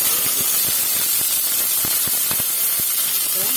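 Bay leaf and kalpasi spices sizzle and crackle steadily in hot oil in a pan, a dense continuous frying hiss with scattered sharp pops throughout.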